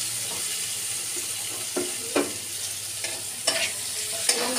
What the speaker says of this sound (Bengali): পাঁচফোড়নটা দিয়ে আমি পেঁয়াজ কুচিগুলো দিয়ে দিচ্ছি।